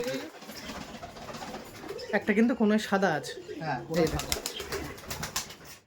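Giribaj pigeons coo at close range, with occasional wing flaps mixed in, under a voice talking over them.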